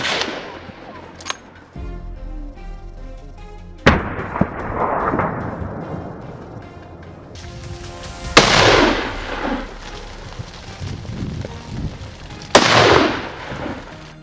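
Gunshots ring out during a wild boar hunt. There are several sharp, loud cracks spaced across the stretch, each one followed by a rolling echo, against a quieter outdoor background with no talking.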